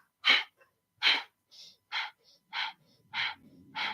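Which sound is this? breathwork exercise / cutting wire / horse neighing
breathwork exercise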